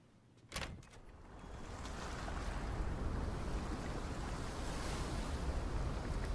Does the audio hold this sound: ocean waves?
yes